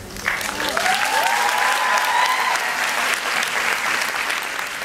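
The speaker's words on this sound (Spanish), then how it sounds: "todo este aplauso es para vos" Applause from an audience at a speaking event in Israel fills the space, a dense, steady wash of clapping that holds loud and close with a faint whistle or tone rising through it.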